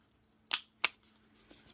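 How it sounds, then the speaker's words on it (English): A small corner rounder punch bites through scrap pieces of paper, giving two sharp, close clicks a fraction of a second apart, followed by a fainter tap in a quiet room. "And this rounds the corners of papers."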